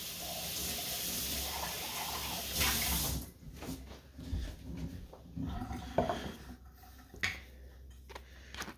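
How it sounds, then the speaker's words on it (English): Glass jar rinsed under running tap water after holding milk kefir, a steady close water rush for about three seconds, then uneven splashing and clinking as the jar is swirled, with a dog faintly audible. "Rinse it out a moment."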